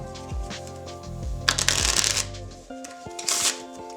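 A deck of playing cards being shuffled by hand, with several quick riffling bursts and sharp snapping flutters followed by softer taps, close and clear with no talking.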